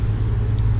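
Steady low rumble of car traffic on a main street, a continuous nearby road drone with no distinct passes standing out.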